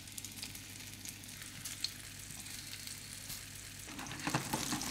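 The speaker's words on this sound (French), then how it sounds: "je fais chauffer donc cette poêle et je vais donc mettre mes légumes dans ma poêle." Vegetables sautéing in olive oil in a hot frying pan for a Mediterranean vegetable sauté: a steady close sizzle and crackle, with sharper spits and rising sizzle near the end as the pan is stirred.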